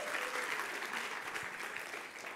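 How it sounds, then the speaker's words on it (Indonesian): A church congregation applauding, dense and even clapping that holds steady and tapers slightly at the end, heard from a distance. "Beri tepuk tangan yang meriah buat Tuhan."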